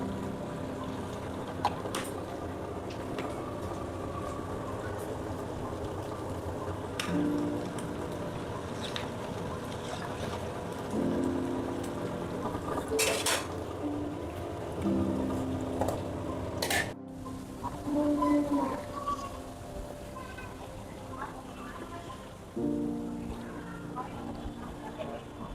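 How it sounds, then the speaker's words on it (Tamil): Village-style country chicken curry with rock salt and turmeric boiling in a pot, giving a continuous hissing bubble with a few sharp clinks of utensils and a low background rumble. "குழம்பு இப்போ கொதிக்க ஆரம்பிச்சிச்சு."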